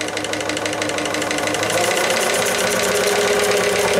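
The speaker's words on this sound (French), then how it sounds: "Le souffle que vous entendez, c'est parce que le tuyau est très long et très fin." A small live steam boat engine (JMC 3 cm3) runs with a steady broadband hiss through a long, thin pipe, under a loud continuous mechanical chugging drone, close and unbroken.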